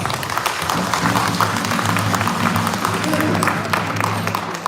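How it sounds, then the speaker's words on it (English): Applause from a community gala audience celebrating 20 years, with dense, sustained clapping from a crowd and a low rumble or hum running beneath it. "give yourself a round of applause for coming out and hanging out"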